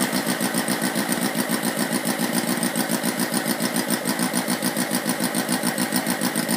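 Sterling Kits 32cc inline four-cylinder model engine running right after a cold start, a close, loud, rapid, even buzzing with steady firing pulses throughout, with no voices.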